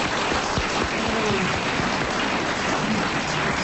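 Studio audience breaks into sustained applause on a French comedy panel show, a dense, even patter of many hands clapping that carries steadily from start to end with no talk over it.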